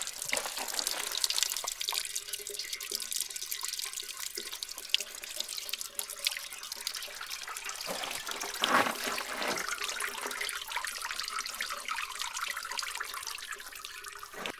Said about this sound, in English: Trickling water, nice and cool in this canyon.